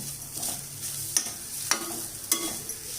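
Grated coconut is roasted in a pan, with quiet sizzling under three sharp scraping strokes from a stirring utensil, spaced about half a second apart. No one speaks.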